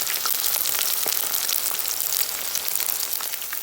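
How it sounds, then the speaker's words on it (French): Chicken fritters frying in oil in a pan, a steady dense sizzle with fine crackling pops that holds at an even, close level throughout, with no talking. "Et je mets à frire dans ma poêle"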